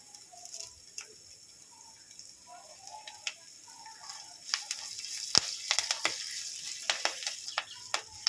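Curry leaves hitting hot oil in a pan with asafoetida, giving a soft sizzle that is punctuated by scattered crisp pops and crackles, which grow busier partway through.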